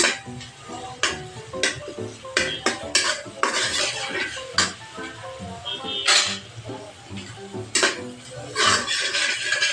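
Noodles cook in a home-kitchen pan with oil, onion, green chili, chopped tomato, egg, noodle spice mix and salt, giving busy close-up clinks of utensils, scraping stirs and pan knocks in an irregular rhythm throughout.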